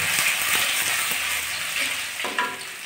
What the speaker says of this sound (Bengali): এবার দিচ্ছি রসুন কুচিয়ে রাখা রসুন